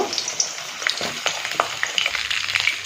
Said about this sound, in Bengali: তো এখানে বেগুনটা ভাজা হচ্ছে